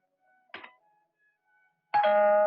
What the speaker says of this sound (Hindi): मगर तुमने ये घंटी कैसे बजाई?